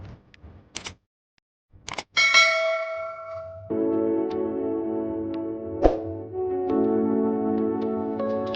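A notification bell effect at the end of a medical tips compilation: a few clicks and a sharp ding, then sustained bell-like ringing tones with another bright strike midway, standing alone without speech.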